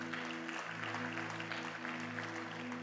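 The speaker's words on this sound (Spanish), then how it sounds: "Le da un fuerte aplauso al Señor." A church congregation gives a strong round of applause, dense steady clapping over a low constant hum, with no talking.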